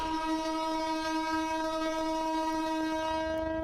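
A passenger train departs Beed station, its loud horn held as one steady, unbroken blast close by, with no talk over it.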